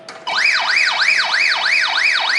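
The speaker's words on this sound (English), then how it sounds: "If you hit this button inadvertently, It's an alarm." Alarm from the top button of a handheld radio, a loud continuous wailing siren that sweeps up and down in rapid repeated cycles, starting abruptly and sounding close.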